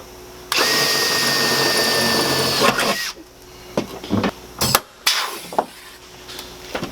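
A power tool whirs loudly for a couple of seconds while setting a rivet during a Mercedes Sprinter van wiring chase install, then cuts off, followed by several sharp clicks and clunks of handling nearby.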